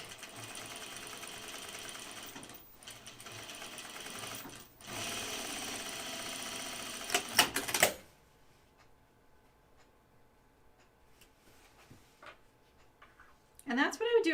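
A sewing machine double stitches a jeans pocket in a long, steady, close whir that breaks off briefly twice before stopping, followed by quiet room sound and a short scrape at the end.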